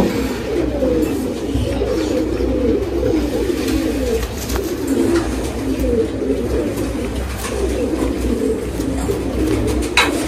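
Small pigeons coo close by in a continuous, overlapping series of soft, throaty calls that repeat steadily throughout, with no voices.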